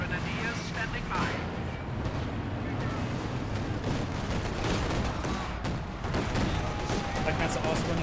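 Tank battle in Company of Heroes 2 with Panthers trading fire, dense booming gunfire and explosions rumbling continuously under game ambience, with a voice talking throughout.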